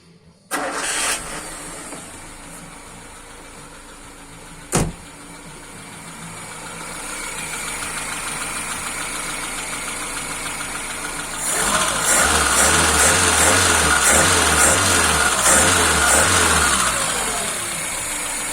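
A car engine fitted with a Solex 21083 carburetor with gas fittings cranks and catches with no throttle, settles into a steady idle, and later runs with a louder, pulsing rumble, close by with no talking.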